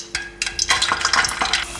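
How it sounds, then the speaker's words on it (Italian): Hot oil bubbling and popping in a pan, ready for frying chiacchiere (Italian carnival pastries), with a close, steady crackle and sizzle broken by a few sharper pops. "ci sono delle bollicine addirittura scoppiette, quindi posso inserire le chiacchiere"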